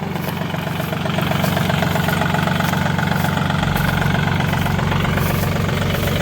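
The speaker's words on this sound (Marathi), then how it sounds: "हे बघा हे आपल्या बागेच्या आत आपला ट्रॅक्टर आहे." A tractor engine runs steadily nearby inside a pomegranate orchard, a loud continuous rumbling drone with a slight throb that grows a bit stronger after the first second.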